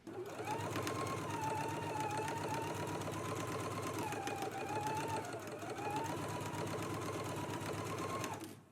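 A sewing machine runs steadily while stitching a placket seam, its rapid, even mechanical whir continuing close and unbroken, with slight shifts in pitch.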